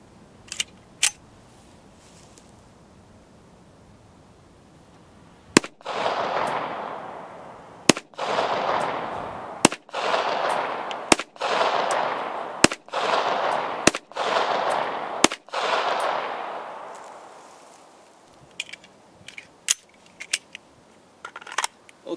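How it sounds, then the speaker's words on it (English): A Springfield Armory 1911 TRP pistol fires round after round at a target: about a dozen sharp, loud shots, each trailed by a roaring echo, spaced a second or two apart, with quieter clicks and handling noise before and after. "just kind of getting all the rounds out and seeing how the gun felt"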